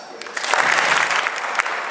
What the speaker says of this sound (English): let's give these guys a claps.